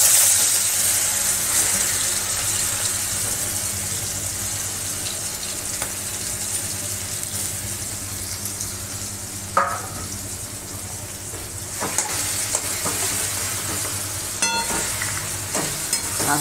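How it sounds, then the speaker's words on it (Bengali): Mustard-paste-coated prawns frying in hot oil in a pan, a steady soft sizzle that runs throughout with a few brief clinks and shifts partway through. "মাখানো হয়ে গেছে, এখন আমি মাছটা তেলের উপর দিয়ে দেব।"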